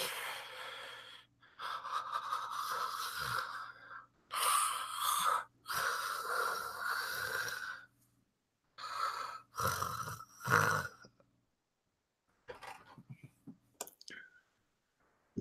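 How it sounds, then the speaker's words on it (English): A sleeper breathes heavily behind gold gilded windows in a tabletop role-playing game scene, with loud, slow breaths and snorting gasps arriving in separate bursts broken by short silences. "as you stop at the gold gilded windows, you can hear heavy breathing inside."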